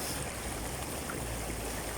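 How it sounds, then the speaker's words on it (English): A 2021 Nissan Navarra Pro 4X fords a river at Sta. Ines, Tanay, with a steady rush of churning water and low engine rumble filling the scene continuously at moderate level and no voices. "The brand new Nissan Navarra Pro 4X does its third river crossing."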